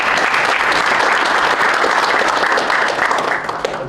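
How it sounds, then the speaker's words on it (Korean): A crowd at a Korean defense industry meeting with the defense acquisition chief gives loud, sustained applause for a visiting former unification minister, fading slightly toward the end. "큰 박수 부탁드립니다."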